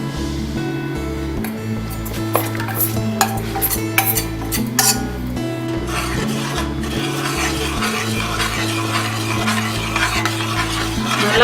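Batter thinned with a little oil is stirred steadily in a pan, a close, continuous scraping and swishing with soft sizzling underneath and an occasional clink of the spoon against the metal.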